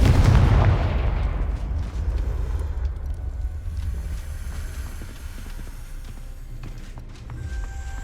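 Confringo spell blast in a Harry Potter video game: a loud, sudden explosive boom at the start that decays into a rumbling, crackling tail and low debris noise lingering for several seconds.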